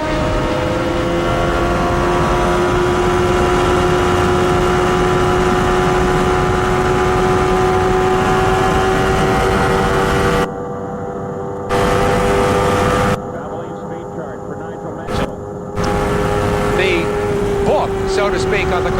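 Mario Andretti's Chevrolet-powered IndyCar runs wide open through turn 2 at Indianapolis during a 1993 CART race. A loud, sustained engine drone holds a steady high pitch, briefly dropping out midway, with commentator talk mixed in.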